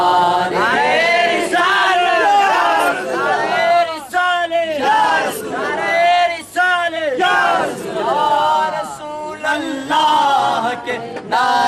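A crowd at a religious gathering chants the slogan Ya Rasool Allah in loud, repeated rhythmic bursts with brief pauses between phrases.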